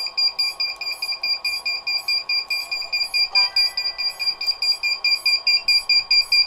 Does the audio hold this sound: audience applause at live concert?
no